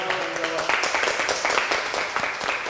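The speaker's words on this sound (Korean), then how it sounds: "큰 박수 주세요." An audience at a televised career talk show breaks into steady, dense applause that carries on throughout, loud and close, ending abruptly.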